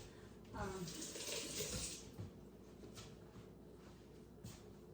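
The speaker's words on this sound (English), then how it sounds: "just one second, I need to wash my hands." Water runs from a kitchen tap during handwashing, a soft splashing rush that swells briefly near the start and then settles into a low, steady flow, heard close and fairly quiet.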